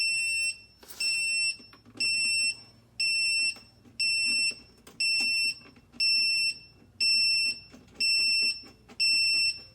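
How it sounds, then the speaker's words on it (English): A sump pump battery backup unit beeps in a steady, evenly spaced series of loud, high-pitched tones, about one per second, with no batteries installed and no voices. "The unit may beep if you don't have the batteries installed yet"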